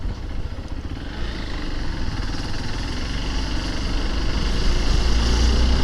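A motorcycle engine under way while riding, a continuous low throbbing rumble that holds steady and swells slightly louder toward the end, close and with no voices.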